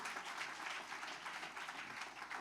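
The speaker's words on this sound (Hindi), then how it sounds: "हम ताली बजाकर परमेश्वर को महिमा करेंगे।" Church congregation clapping together at a special service, steady rhythmic group claps at moderate loudness throughout, with no talk over it.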